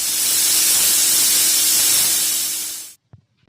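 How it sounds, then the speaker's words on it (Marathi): A pressure cooker whistle releasing steam while cooking a brinjal curry makes a loud, continuous rushing hiss that cuts off abruptly, followed by a faint soft thump. "कुकरच्या 2 शिट्या घेतल्या"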